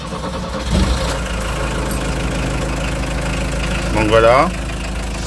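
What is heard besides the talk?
Volkswagen Combi T3 engine idling while warming up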